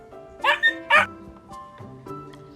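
A dog gives a few short barks and yips close by, with whimpering tones between them, in a quick uneven burst.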